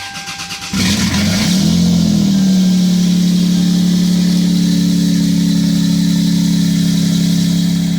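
A Lexus GS300 engine, freshly fitted with a turbo and new transmission, cranks and fires up, then settles into a loud, steady idle that drones on close by without anyone talking.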